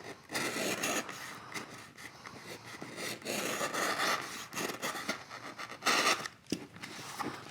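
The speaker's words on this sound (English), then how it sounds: "So I'm just going to take my knife, just trim that off." A craft knife trims a lip of excess foam from the edge of a foam-board model plane fuselage, giving close, repeated scraping and rubbing strokes in an uneven rhythm, with no voices.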